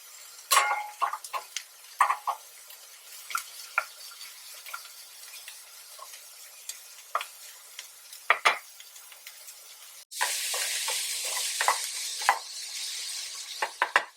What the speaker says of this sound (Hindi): अब इसमें हम शिमला मिर्च डालकर भूनेंगे।